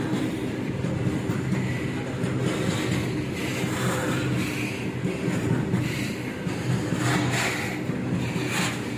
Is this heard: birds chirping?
no